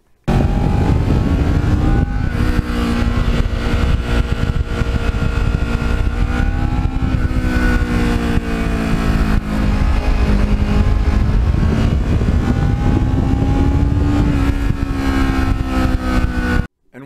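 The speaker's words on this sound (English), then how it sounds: "It's got the sound of an Indy car at high RPM." Engine of a restored black Kawasaki Ninja-style sport motorcycle revving at high RPM, a loud, continuous high-pitched wail with rises and dips in pitch as it climbs and shifts, close and sustained with no voices.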